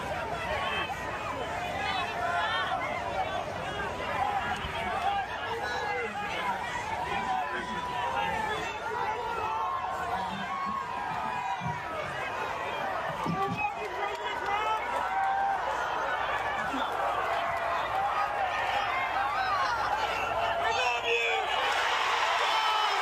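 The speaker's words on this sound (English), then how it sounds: "Listen to that crowd roar." A large crowd at a political rally roars and cheers continuously, a dense, loud wall of voices and whoops that swells and holds for the whole stretch.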